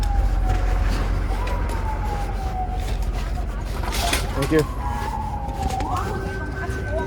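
Emergency vehicle sirens wail on a city street, rising and falling tones sweeping across several seconds over steady traffic rumble and wind, with a voice briefly speaking.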